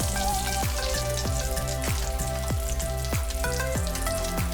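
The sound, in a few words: Goan potato chops frying in oil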